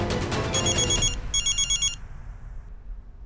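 An electronic telephone ringing in a comedy TV scene, two bursts of rapid trilling rings close by, then quiet room tone.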